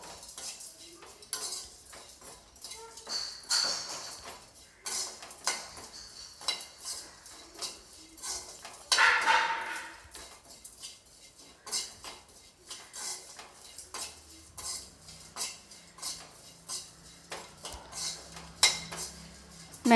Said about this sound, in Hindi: मैंने इनको लगभग 1 मिनट तक भून लिया है लो फ्लेम पे।